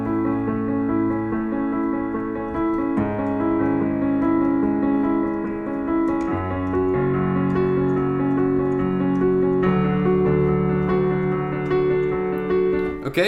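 Solo piano plays the intro and verse of a song, a steady broken-chord pattern cycling through four chords, close and full, with no voices.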